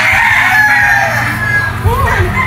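A Super Brown Red straight-comb gamefowl rooster crows once on a farm, a loud, close, drawn-out call over a low background rumble.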